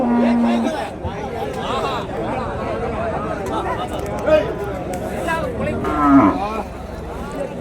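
Crossbred and Jersey cattle mooing at the Uthangarai cattle market, several long low calls near and far over a steady hubbub of crowd chatter and people talking.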